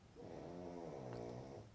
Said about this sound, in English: That's my dog snoring behind me if you guys hear something.